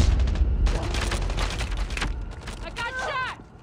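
Rapid bursts of gunfire in the mobile shooter Call of Duty: Mobile, loud and dense, mixed with game effects and a tonal chirp near the end.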